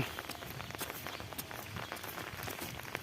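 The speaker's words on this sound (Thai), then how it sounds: "ผมก็จะเดิน" Footsteps walking outdoors past a water reservoir and fish pond beside flooded rice fields after heavy rain, a quick, steady run of soft, crunchy steps close to the microphone.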